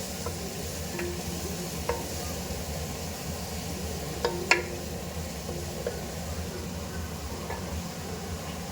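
Fish curry ingredients frying in a pan, a low, even sizzle running throughout with a few light clicks of a utensil against the pan.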